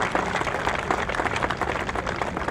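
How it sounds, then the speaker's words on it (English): A crowd at an outdoor dedication ceremony in Long Beach, New York gives a round of applause, steady clapping from many hands at moderate distance throughout. "let's give them a round of applause."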